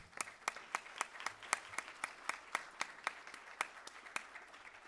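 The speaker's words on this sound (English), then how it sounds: "Can we just give it a round of applause?" Steady, evenly spaced claps ring out at a welcome session of a housing advocacy conference, each sharp hit standing alone against a quiet room. The claps are faint and come in a regular rhythm for several seconds.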